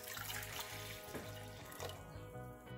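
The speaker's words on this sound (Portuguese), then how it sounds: "Numa panelinha ou numa leiteira, vou colocar uma xícara de água," A cup of water pours into a small saucepan or milk pot in a home kitchen, a close, steady splashing stream that tapers off after a couple of seconds.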